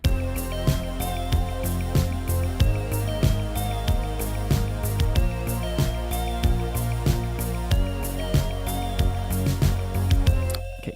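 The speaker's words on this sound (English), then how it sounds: "I've just programmed some stuff here in Pro Tools, some drums, some bass pad lead." Programmed electronic track in Pro Tools with drums, bass, pad and a lead melody, a dense steady groove of punchy beats under sustained synth layers, loud and continuous with no talking.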